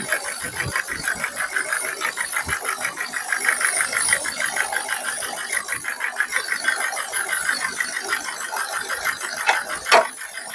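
A diesel car engine in good condition idles steadily nearby, a continuous rough, rattling clatter with an even pulse throughout and a brief sharp tap near the end, with no talking.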